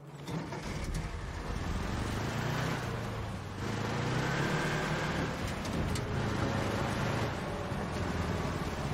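A car driving in the video game Battlefield 5, a faint, steady engine hum with rumbling road noise that swells slightly midway, no talking.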